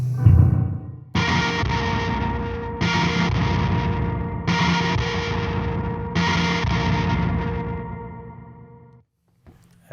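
Electric guitar chords with gritty distortion and a shimmering chorus effect from an EarthQuaker Devices pedal, played loud in four sustained strums with short gaps, fading out at the end.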